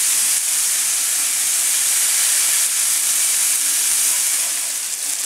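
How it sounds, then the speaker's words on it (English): Beef sliders pressed together with onions sear on a hot griddle, producing a loud, constant, broad hiss that holds steady throughout. "As we're flipping these over, and make sure that these all get smushed down and get those onions into the meat."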